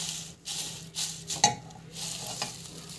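Ingredients sautéed in a hot pan and stirred until fully softened, giving a steady sizzle with scraping stir strokes and a few utensil clinks, close and alone.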